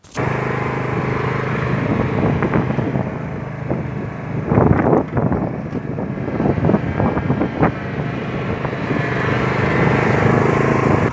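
A vehicle fitted with tire chains climbs muddy tracks on an off-grid property, its engine droning steadily while bursts of churning, slapping noise come from the tires midway. No talk.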